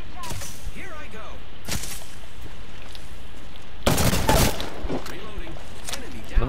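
G7 Scout rifle fire in a video game: sharp, loud single shots cracking out in an uneven series, with a dense burst of overlapping shots near the middle, all over a steady background of game noise.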